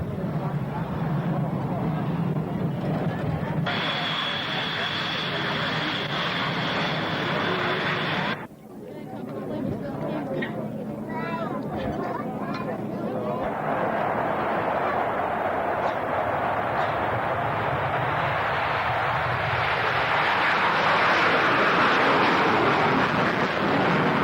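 Blue Angels FA-18 Hornet jets performing at the 1993 South Weymouth air show, a roaring jet rumble that shifts and swells toward a loud, broad engine roar, with crowd noise and people talking over it.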